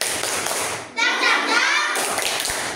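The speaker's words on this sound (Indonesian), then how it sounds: "Oke, tepuk semangat." Children in a classroom clap out a rhythmic cheer routine together, a steady run of sharp claps with a busy burst in the middle, heard up close alongside young voices calling out.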